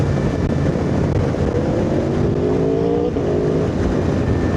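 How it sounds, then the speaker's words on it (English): An Aprilia V4 motorcycle goes by on a road under a steady rumble of wind or riding noise, its engine tone rising in a short, climbing whine as it passes and then fading. "Sounds good, doesn't it, that V4 on that Aprilia"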